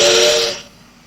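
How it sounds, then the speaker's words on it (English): A steam locomotive whistle in the mobile game Trainz Simulator 3 gives one loud, steady blast of about half a second with a breathy hiss, then cuts off and leaves quiet background. "Bit of whistle action."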